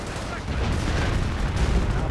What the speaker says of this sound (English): British infantry getting torn apart, now running into their own artillery fire.